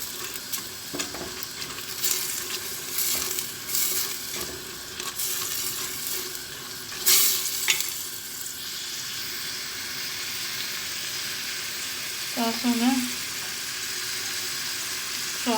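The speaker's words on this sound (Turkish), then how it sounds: "Şimdi böyle güzelce kavuracağım." Food sizzles and fries steadily in a pan for a dry white bean dish, with a utensil stirring and scraping now and then. A brief, faint tap-water sound comes in near the end.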